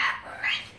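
A single short dog bark, close and fairly loud, with a brief second yelp trailing it in a quiet home.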